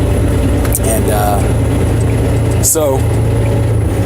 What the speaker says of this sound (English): the ridiculous sound you hear in the background is my truck